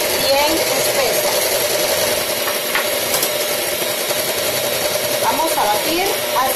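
An electric mixer beats egg whites and yolks into a thick, creamy batter with a steady, buzzing whir close by. A person speaks over it.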